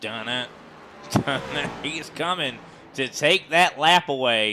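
A voices two low, ominous notes imitating the Jaws theme during a sim-racing stock car race commentary at Gateway, then goes on speaking.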